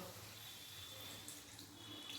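Water pouring into a pan of potol posto, pointed gourd with potato and poppy seed paste, giving a steady, continuous faucet-like rush of flowing water throughout, fairly close and unaccompanied by talk.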